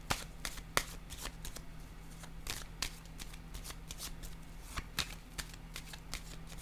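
Tarot cards are shuffled and laid down in a quiet room, with crisp riffling flutters and soft sharp slaps of cards landing, repeating irregularly at close range with no talk.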